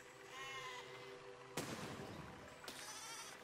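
Sheep in the video game Besiege let out drawn-out, wavering bleats at a fair distance. Two sudden sharp bursts like blasts or impacts cut across them.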